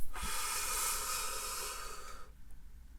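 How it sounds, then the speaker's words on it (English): A long, steady breath drawn in, airy and close, lasting a couple of seconds before trailing off into quiet. "Now breathe in through your mouth"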